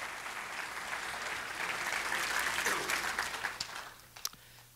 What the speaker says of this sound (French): Est-ce qu'on peut l'applaudir pour détendre un peu l'atmosphère?